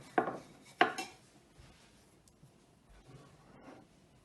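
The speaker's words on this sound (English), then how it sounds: "I might cut my parsnip up." A knife chopping through a parsnip, two sharp cuts near the start followed by faint scraping and rustling on a board, close and fairly quiet.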